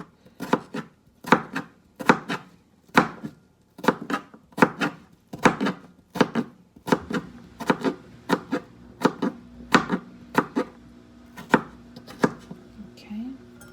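Rapid, steady knife chops on a cutting board while preparing shrimp ceviche, a close, crisp series of knocks in quick rhythm with a low appliance hum beneath.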